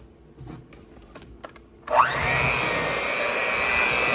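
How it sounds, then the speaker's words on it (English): An electric mixer starts up in thick banana nut bread batter after a few soft knocks, its motor whirring to speed and then holding a steady, loud, close drone for the rest of the stretch. "We're going to do one last mix with the mixer."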